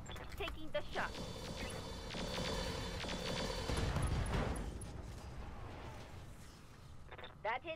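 Pulse lasers fire in the mech combat game Roguetech, a dense volley of booming, crackling shots that rolls on for several seconds and then fades, with a voice talking over it.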